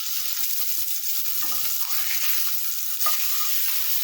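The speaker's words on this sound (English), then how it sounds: "grab 2 juicy beef patties and put them in a pan for about 6 to 8 minutes" Two juicy beef burger patties fry in a pan for a double cheeseburger, giving a steady, dense sizzle throughout with a few small pops and crackles and no voices.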